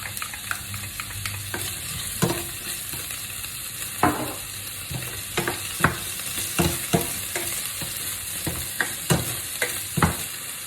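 Chopped onions frying in a little olive oil for an aubergine lasagna filling, a steady close sizzle with intermittent stirring scrapes and clicks of a utensil against the pan, no talking.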